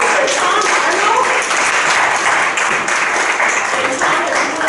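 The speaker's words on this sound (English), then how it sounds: "Let's give a round of applause for Tom Arnold." A room full of people applauding a board president at a celebration event, loud sustained clapping that stays dense and even from start to finish, with faint voices mixed underneath.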